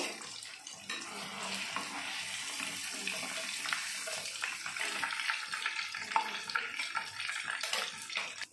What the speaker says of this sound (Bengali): আমি পনিরটাকে হালকা করে ভেজে নিলাম